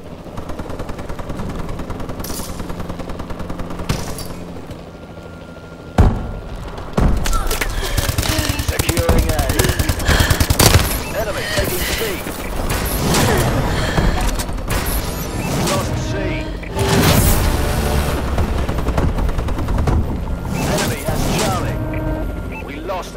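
Heavy gunfire from a Warbird gunship in the Call of Duty: Advanced Warfare game: dense, continuous bursts and booms in a busy battle mix, with a brief lull near six seconds, under occasional game voice callouts.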